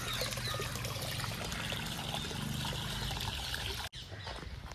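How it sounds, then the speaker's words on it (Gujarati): Continuous trickling water nearby, steady and fairly soft, with a faint bird call in the background and a brief cut near the end. "કાંઈ મજા આવે એવું પાણી ચાલુ હોય"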